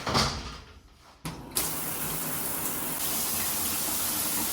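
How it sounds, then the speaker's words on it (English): Shower water running, starting with a short rush and brief lulls before settling into a steady close spray that continues evenly to the end, with no voices. "now I desperately need a shower"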